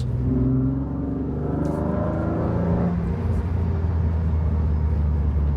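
A sports car fitted with a carbon airbox drives along a country road in Ireland, its engine giving a steady loud, deep drone with a slight rise in pitch, heard continuously without a break.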